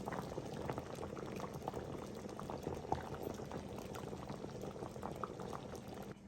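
Thick mushroom gravy bubbling steadily in a pan, soft pops and burbles close up, quiet and continuous.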